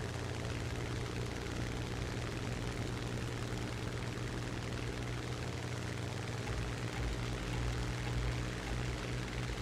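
Propeller aircraft engines in a flight simulator air battle, a steady loud drone that holds at an even level throughout with no clear drop in pitch.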